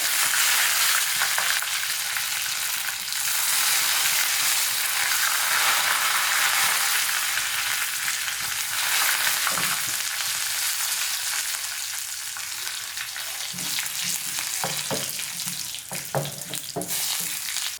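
Curry leaves hit hot oil for a pineapple pachadi tempering, setting off a loud, dense, continuous sizzle with bursts of spattering and crackling throughout, close up with no voices.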